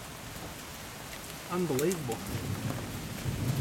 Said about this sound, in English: I could not believe it started hailing. And not just hailing, pummeling down.